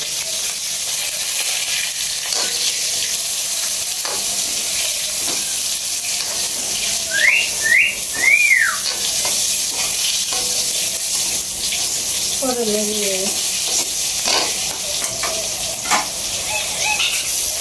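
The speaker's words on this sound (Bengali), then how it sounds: "সীমা এদিকে আপনার পটলের বড়া করতেছে আর কি" Battered pointed gourd fritters sizzle in hot oil in a pan, a steady bright hissing fry that runs throughout, with occasional bird chirps and a brief faint clatter in the background.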